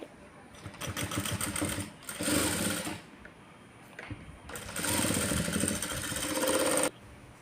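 Sewing machine stitching the neck of a blouse, whirring in two bursts of steady rapid stitching with quieter pauses between, close and loud with no talk.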